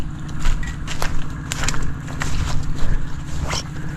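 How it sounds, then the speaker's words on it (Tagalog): A small water pump engine chugs steadily nearby, a low rhythmic mechanical rumble with occasional clicks and knocks over it. "Lakas yata yung makina natin ah"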